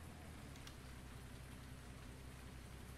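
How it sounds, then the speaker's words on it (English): Steady rain falls in Farming Simulator 19, a constant soft hiss of drops on surfaces, even and unbroken from start to finish, faint and without voices. "Because the game says it's raining"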